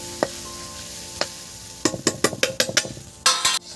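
Whole spices, cinnamon, mace, cardamom, bay leaf and cloves, frying in a pan for basanti pulao, heard as a quiet sizzle with a run of sharp close clicks and scrapes from a spoon stirring, ending in a louder scraping burst.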